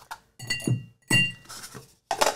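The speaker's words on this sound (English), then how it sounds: "And we'll use a large clear cube." A large clear ice cube clinks and knocks against a rocks glass in a few short, close, hard taps with brief pauses between them, while a cocktail is being made.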